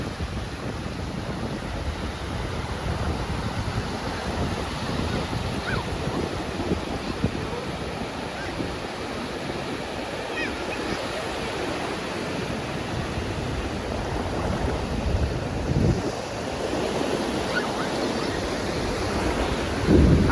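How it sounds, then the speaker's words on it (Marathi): High-tide ocean waves at Anjarle beach roll in as a continuous, dense roar of surf mixed with wind buffeting, rising slightly toward the end, with no voices. "हाय टाईड आहे हाय टाईड त्याच्यामुळे लाटा भरपूर आहे"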